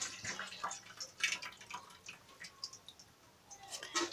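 Faint dripping and trickling water as chicken thighs soaked in hot water are drained, soft irregular splashes and drips, quiet and close.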